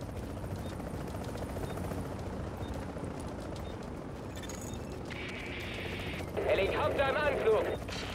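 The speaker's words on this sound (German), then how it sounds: "Helikopter im Anflug!" Helicopter approaching in Tom Clancy's The Division, a steady rotor drone running throughout under game noise, with a louder mechanical burst near the end.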